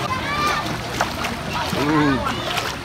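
Water sloshes and splashes along a water park lazy river at Silverwood Theme Park, a steady wash of moving water with people talking and calling out over it.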